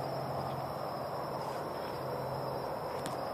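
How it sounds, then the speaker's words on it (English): A steady, dense chorus of crickets chirping continuously outdoors, a high shrill trill over a faint low hum, with no talking. "I love the sound of crickets."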